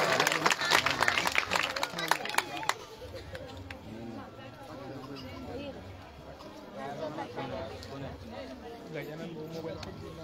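A crowd at a community gathering breaks into a burst of applause for a few seconds, then the clapping gives way to steady murmuring chatter and voices.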